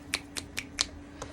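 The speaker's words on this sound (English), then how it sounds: "I can't stop the snaps." Fingers snap five times alone, sharp and close, in an uneven rhythm over a quiet steady hum.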